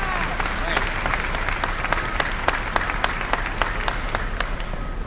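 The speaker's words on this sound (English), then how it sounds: "So please give a big round of applause for Mr." Audience applause rises at a mayor's topping-out celebration for a new entertainment and sports arena, with sustained clapping from a gathered crowd and a few sharper individual claps standing out in the steady wash.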